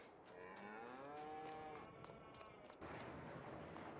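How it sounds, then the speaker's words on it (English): Cows in a barn in Farming Simulator 22 give drawn-out moos over a steady livestock hum, with overlapping calls close by and a faint voice under them. "So you can see we got our cows in there."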